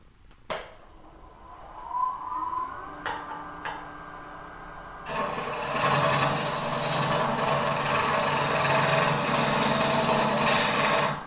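A woodturning tool cutting into a spinning natural-edge wood blank on a lathe to begin hollowing, with a few scraping contacts, then a steady loud rasping cut from midway on over the lathe's hum.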